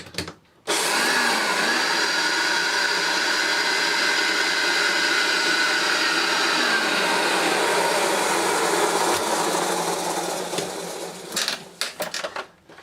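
A Hoover Turbopower Junior U1220 vacuum cleaner, freshly reassembled, starts up after a short pause and runs with a loud, steady whining drone, then sputters and cuts out in uneven bursts near the end.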